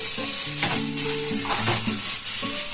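Hilsa fish with bitter gourd fries in a pan as cumin and turmeric powder are stirred in, giving a close, continuous sizzle with scraping stir strokes and a faint steady tone in the background.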